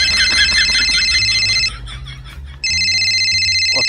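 A telephone rings loudly and close by in two long bursts of repeated electronic trills, separated by a short gap.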